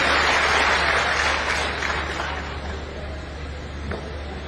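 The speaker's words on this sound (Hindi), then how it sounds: "जोरदार ताली बजाकर स्वागत है" An audience at an outdoor public foundation-stone ceremony for an irrigation project in Nasrullaganj, Sehore, applauds to welcome the water resources minister: dense, steady clapping that fades gradually over a low, constant hum.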